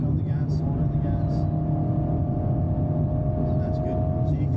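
An Alpine A110S engine pulls hard on track at Thruxton, a steady loud drone with a rising whine throughout, while a driving coach talks over it.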